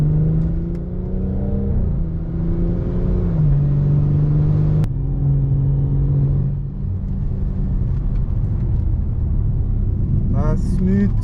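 BMW M240i engine on a race track at Zwartkops Raceway, a loud steady drone that climbs in pitch as the car accelerates, with a brief shift-like change midway and a voice faintly heard near the end.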